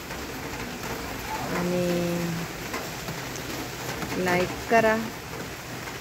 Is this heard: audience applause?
no